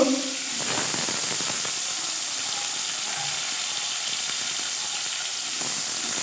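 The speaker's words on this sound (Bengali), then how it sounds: "এবার একে একে সবজি করে ভেজে নেবো প্রথমে আলু উচ্ছেটা আলাদাভাবে ভাজবো" Potato and bitter gourd pieces frying in hot oil, a continuous bright hiss and sizzle, close and steady, with faint clinks early on.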